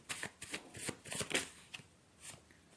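Tarot cards are shuffled close by, with quick papery riffles and slides in several short bursts, soft and alone.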